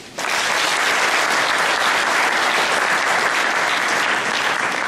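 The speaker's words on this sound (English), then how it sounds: "I'd like us to give them a round of applause." An audience at a school prize-giving day breaks into loud, dense applause for the teachers, starting abruptly and holding steady as a sustained wall of clapping.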